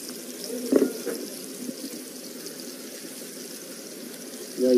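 Cold water runs steadily from a kitchen tap into a sink, a continuous soft hiss with a few clinks of dishes near the start, heard close and alone.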